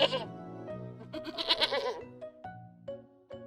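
A goat bleats repeatedly in a stop-motion Hindi folk tale: a long wavering cry followed by several shorter, clear bleats, close and fairly quiet.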